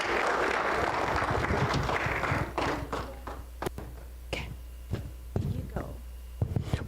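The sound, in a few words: audience clapping for election debate candidates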